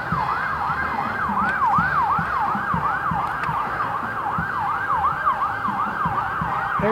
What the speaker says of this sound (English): There's an ambulance.